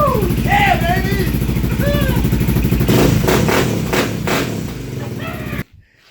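Custom-built Raptor engine running and revving hard, a dense throbbing exhaust rising and falling in bursts with clatter, loud and close, then cutting off abruptly near the end.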